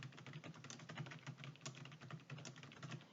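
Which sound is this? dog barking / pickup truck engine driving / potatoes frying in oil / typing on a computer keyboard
typing on a computer keyboard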